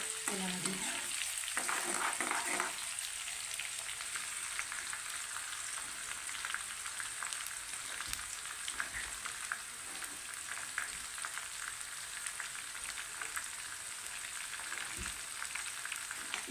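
Onion frying in oil in a pan until it turns red, a steady close sizzle with light crackling and occasional stirring clatter at the start, continuing alone with no talking.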